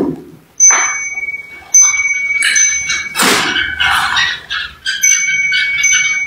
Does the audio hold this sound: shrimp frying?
no